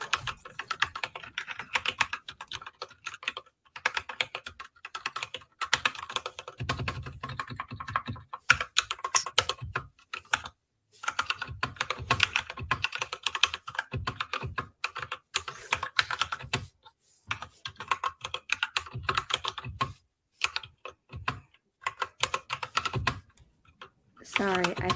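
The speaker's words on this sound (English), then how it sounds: "It's about to have typing ASMR" Rapid, steady typing on a computer keyboard during a quiet writing session, dense clatter of keystrokes with brief pauses, close and fairly loud throughout.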